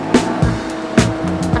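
A BMW F80 M3 makes quick, loud engine bursts, with sharp revs and drops in pitch repeating in a rough rhythm over a couple of seconds.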